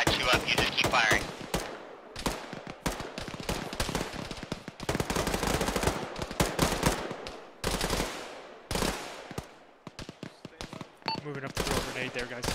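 Sustained automatic gunfire and single shots in a military video game firefight, loud and dense throughout, with brief gaps and voices talking over the shooting.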